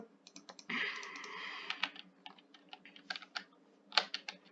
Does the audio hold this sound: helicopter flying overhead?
no